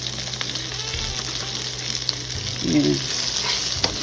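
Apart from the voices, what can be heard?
onions frying in a pan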